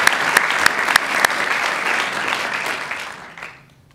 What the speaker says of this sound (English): Again, a round of applause.